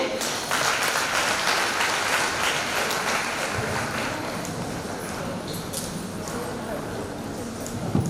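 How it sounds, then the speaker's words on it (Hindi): A crowd applauds steadily and loudly, a dense wash of clapping that carries on without pause throughout. "आइए उनका स्वागत करते हैं जोरदार तालियों से"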